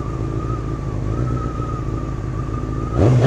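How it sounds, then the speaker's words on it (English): A motorcycle doing a burnout in winter on wet ground runs with a steady rumbling engine drone, then revs up louder near the end. "It's burnout."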